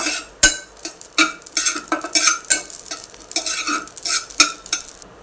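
Poppy seeds roast in a pan over low heat while a spoon stirs them, making repeated scraping and clinking strokes in an uneven rhythm, close and fairly clear, with no talking.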